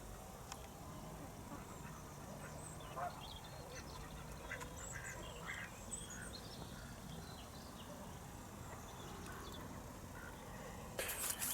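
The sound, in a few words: ducks quacking near a fishing bivvy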